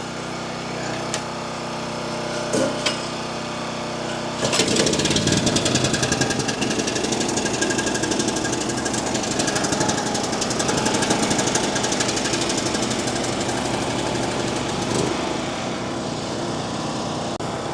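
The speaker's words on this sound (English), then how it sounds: "That's Honda for you, baby. So that's really good news. We've had this generator for 5 years or more." A Honda portable generator, more than five years old, kept for off-grid living during an arctic cold snap, gets a couple of pull attempts. It then fires and runs with a loud, close, steady engine clatter that settles slightly lower near the end.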